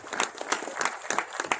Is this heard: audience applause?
yes